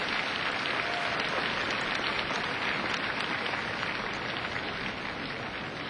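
A large crowd at Singapore's 2007 National Day Parade applauding Minister Mentor Lee Kuan Yew, a dense, steady roar of clapping heard from within the stands, continuous and unbroken for the whole stretch.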